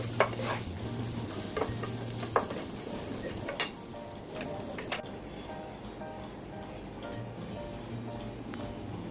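Vegetables for upma, such as carrots, beans and green peas, sauté in a pan with a soft, steady sizzle, broken by occasional clinks and scrapes of a stirring spoon early on, with no one talking.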